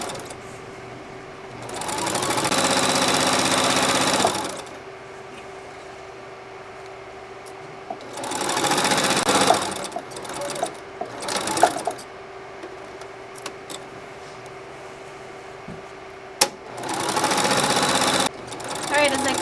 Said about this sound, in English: all I want to do is just start sewing all the way around, removing pins as I go